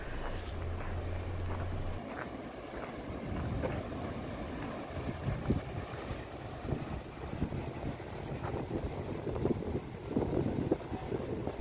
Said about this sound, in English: we can hear the sound of gushing water